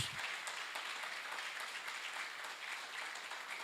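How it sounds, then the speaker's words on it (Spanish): Congregation in a church clapping together in a steady, dense wash of applause that fills the space for a few seconds, fairly soft and distant, with no voices standing out. "¿Puedes darle un aplauso fuerte a Jesús?"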